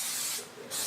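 Cooking spray hisses over a fall vegetable dish in a baking pan in two short, close bursts, broken by a brief pause.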